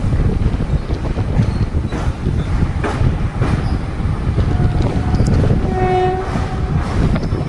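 Train at Ahmedabad Kalupur railway station, a loud continuous rumble of rolling railcars with a brief horn-like tone near the end, close and steady with no talk.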